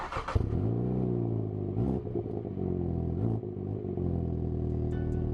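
A 2020 Mini John Cooper Works engine cranks and catches with a sharp burst, then settles into a loud, steady idle rumble with a couple of brief revs.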